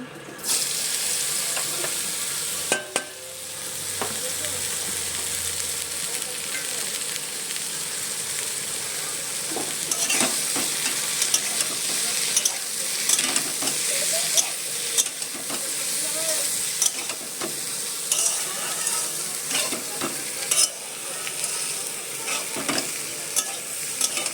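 Potatoes fry in hot oil in a wok, a continuous sizzle punctuated by scraping and clinking of stirring, growing busier halfway through.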